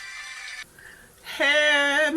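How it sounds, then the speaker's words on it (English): A mobile phone rings loudly and close by in a kitchen where meat is cooking, a steady melodic electronic ringtone starting after a brief quiet gap and continuing to the end. "My phone is ringing."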